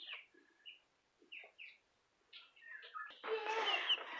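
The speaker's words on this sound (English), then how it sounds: "And here's our 6 new little chickens." Six newly bought baby chicks peep in short, high chirps, scattered at first and then crowding into a denser burst of overlapping cheeps, fairly faint and close with no talk.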